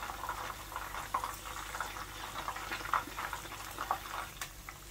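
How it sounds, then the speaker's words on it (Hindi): Boneless chicken pakoras frying in hot oil, a soft continuous bubbling crackle with small irregular pops, fairly quiet and steady throughout. "इसी तरह से हम इसको फ्राई कर लेंगे तकरीबन 7 से 8 मिनट हम टोटल दोनों साइडों से इसको फ्राई करेंगे"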